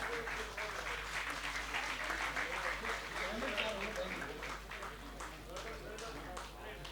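Audience at a Hindi poetry event clapping steadily, with individual claps audible in the wash and voices talking underneath, heard from a moderate distance.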